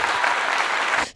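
A brief burst of dense clapping from a crowd, steady for about a second before cutting off abruptly.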